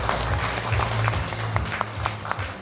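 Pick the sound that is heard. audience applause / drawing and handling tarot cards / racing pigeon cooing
audience applause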